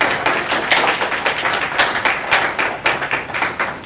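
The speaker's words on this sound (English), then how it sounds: "I think we should give you some applause" Panel audience clapping for speakers, a brisk scatter of hand claps at close-to-mid distance that rises and dips over about four seconds without a clear voice over it.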